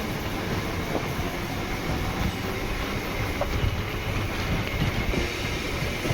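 A Chennai EMU suburban train on its last run from Beach to Tambaram rolls steadily, giving a continuous close rumble with faint wheel clatter and an occasional brief squeal, heard alone with no talking.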